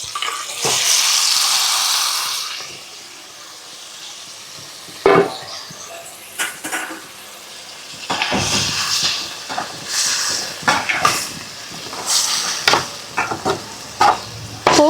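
Cooked beef is stirred and fried in a pan with onion and tomato for beef chukka, giving a steady sizzle punctuated by scraping clanks of a spoon against the pan, with no talk.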